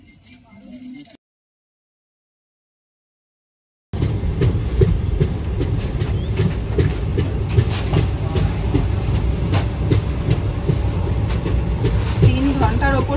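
A passenger train runs on rails, giving a steady loud rumble with rhythmic wheel clatter after a short pause, and voices talk faintly beneath it.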